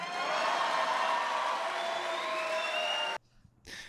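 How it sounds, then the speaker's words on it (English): A studio audience applauding for about three seconds, a dense burst of clapping and cheering that cuts off abruptly into near silence, followed by a brief faint sound. "give him a round of applause"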